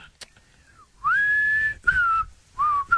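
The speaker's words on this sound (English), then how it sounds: "There's a whistling." A person whistling a football club song, the Freo Dockers tune, in clear sliding notes in several phrases with short gaps, close and loud.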